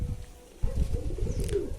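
Pigeons on a rooftop give low, soft cooing calls while startled by a kite circling overhead, a few murmuring coos close by over a dull background rumble.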